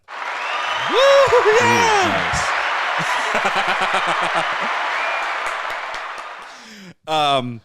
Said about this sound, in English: Let's play the clapping one.